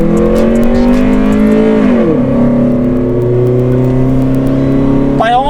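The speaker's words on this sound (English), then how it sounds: "Now he's gonna give us a quick little acceleration." A 1999 Honda Integra with a 4-speed automatic accelerates from a red light, its engine droning close and loud, the pitch climbing, dropping at a gearshift, then climbing steadily again.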